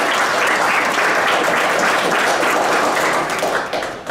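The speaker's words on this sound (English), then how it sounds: "Kenny, round of applause, please." Audience applause for a dedicated pre-professional coach at a youth soccer club's college signing event: dense, steady clapping from a crowd, loud throughout and fading slightly at the end.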